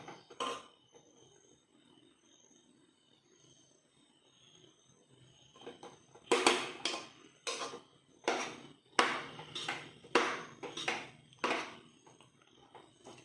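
Cooked jackfruit puzhukku is stirred in a pressure-cooker pot, first a few faint scrapes, then a run of repeated clattering, knocking strokes of spoon on metal, fairly close and rhythmic.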